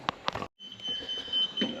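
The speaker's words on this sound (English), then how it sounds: "You guys probably hear things beeping." A thin, steady electronic beeping tone sounds close by in a workshop where a John Deere military dozer engine is being repaired, with a couple of short clicks and knocks at the start and faint background clatter.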